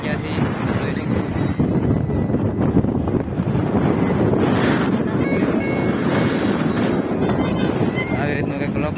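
Strong wind roars at a crowded seaside fair on the beach during Bhadarvi Amas, a loud, unbroken rush buffeting the microphone from start to finish.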